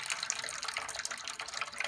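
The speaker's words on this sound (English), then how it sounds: "transferring it from the kettle into our fermenting bucket" Wort pours steadily from a brew kettle into a plastic fermenting bucket on a home brew-in-a-bag day, a continuous hissy splash of liquid that stays even throughout with no talking.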